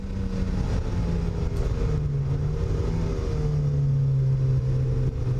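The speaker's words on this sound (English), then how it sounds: "Okay, the Mazda Miata." Mazda Miata on Hankook RS3 tires lapping a wet race track, its engine droning steadily and close with rising and falling pitch, plus tire and road noise throughout, no voices.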